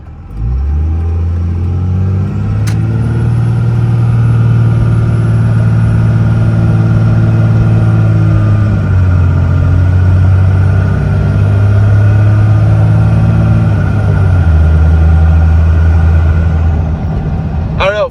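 A 2002 Dodge Ram with a Cummins diesel engine and transmission problems drones loudly and steadily while driving, its pitch rising and dropping as it is pushed through the gears.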